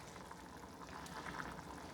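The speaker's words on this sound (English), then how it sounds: "Okay, our water's boiling." Water boils in a pot on the stove for cooking rice, a steady, soft bubbling and hissing that stays even and fairly quiet throughout.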